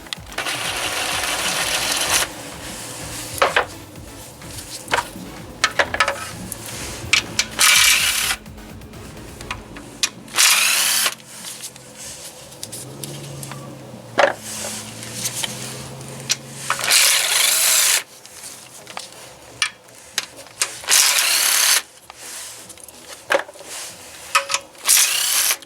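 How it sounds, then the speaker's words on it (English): A power tool with a 10mm socket spins out the bolts around the oil pan of a Kia 1.8/2.0 engine, in repeated whirring bursts of varying length over steady background noise, up close with no speech. "All the bolts will need to be removed with a 10mm socket now"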